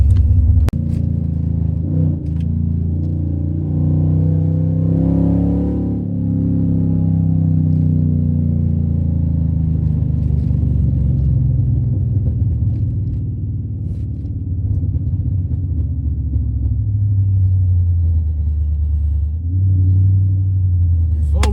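A loud car engine rumbles deeply at low revs, swelling into a brief rev and settling back, steady and close throughout.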